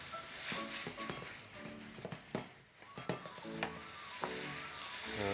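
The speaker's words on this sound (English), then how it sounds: "It's all about the sizzling." Vegetables fry in a hot pan, a quiet sizzle punctuated by clinks and scrapes of stirring utensils, with close clatter peaking several times while the food is tossed.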